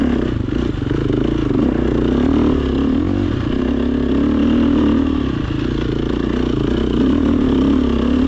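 Enduro motorcycle climbing a steep, slippery hill, its engine droning loud and steady throughout with a constant low rumble and some clattering.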